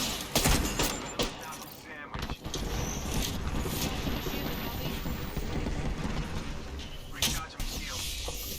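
Rampage light machine gun fire in Apex Legends, Season 15, with Mad Maggie: sustained, loud gunfire with sharp bursts near the start and again toward the end, set among busy game sounds.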